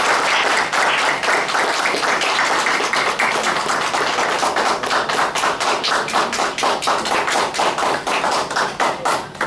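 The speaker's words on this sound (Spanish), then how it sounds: "esta ponencia merece un aplauso mucho más efusivo" A forum audience in Puerto Rico gives loud, dense applause after a presentation. The clapping is close and sustained for nearly ten seconds and turns more rhythmic and pulsing toward the end.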